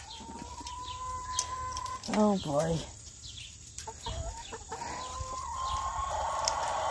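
A chicken lets out loud, harsh squawking calls amid clucking, with a person briefly speaking nearby.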